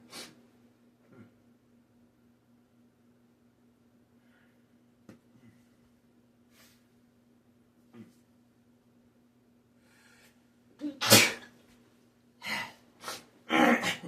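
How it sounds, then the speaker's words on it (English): After a quiet stretch with faint clicks, a loud sneeze erupts, followed by a few sharp sniffs and breaths, close and clear. "you have a sneeze attack"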